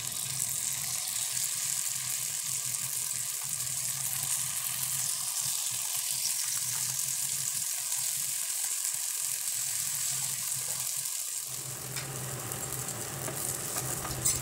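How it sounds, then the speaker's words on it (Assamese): Eri silkworms frying in oil in a pan give off a loud, continuous hissing sizzle that holds steady throughout, close up, with a slight shift in tone near the end. "আকৌ সেইটো ভাজি ল'ম"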